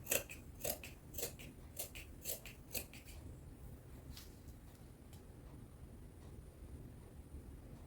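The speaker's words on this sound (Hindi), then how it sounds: "और बैक के लिए भी हमें कट करना है।" Scissors cut thin fabric for a puffy-sleeved top, making a run of crisp, close snips in an even rhythm at first, then fewer and fainter ones over quiet room noise.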